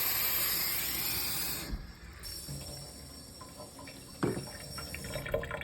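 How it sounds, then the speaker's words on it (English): Water pours with a steady hiss into the reservoir of a Keurig coffee maker, then stops, leaving quieter handling noises and a brief knock. "Fill it up with water."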